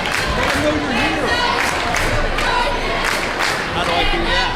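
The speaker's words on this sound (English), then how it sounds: "Stand up and cheer." A high school basketball crowd in the stands of a game against Concordia sends up a steady roar of voices and shouts during a timeout, with nearby talk mixed into the noise.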